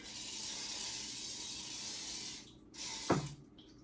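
Ant spray hisses from an aerosol can into the bottom of a kitchen cupboard, a steady close spray for a couple of seconds, a short pause, another burst, then a clunk of the can.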